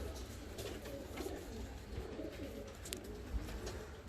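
Fancy Hünkari pigeons, including a large blue-marked saltonette male, coo in low rolling bursts, soft and fairly close, repeating throughout with faint ambient noise.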